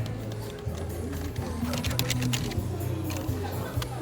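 Typing on a display computer keyboard in a store gives quick, uneven key clicks and taps, near but fairly faint, against busy shop background noise and music, with a voice talking.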